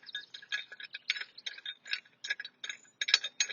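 Threaded hitch pin of an ebike rack being screwed into a car's receiver hitch, giving a quick run of small metallic ratcheting clicks and clinks, close and fairly quiet.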